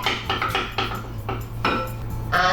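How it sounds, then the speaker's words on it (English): Two eggs are beaten in a large bowl, producing a quick series of close metallic clinks and scrapes of utensil against the bowl in an uneven rhythm, with no voices. "Beat the eggs."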